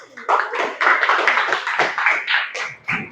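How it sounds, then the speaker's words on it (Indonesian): A classroom applauds group 1 after their presentation in brief, uneven bursts of clapping that swell and fade, with a voice speaking over it. "beri tepuk tangan buat kelompok 1 ya"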